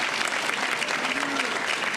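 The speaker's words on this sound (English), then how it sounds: "So let's give all of our finalists a big round of applause, all of our participants." A large audience at an awards ceremony gives a dense, continuous round of applause for the finalists, loud and even from start to finish.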